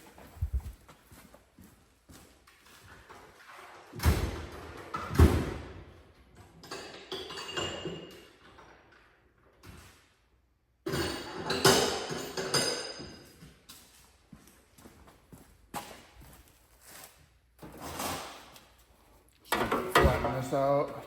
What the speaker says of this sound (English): Just gonna get a hammer and dolly real quick.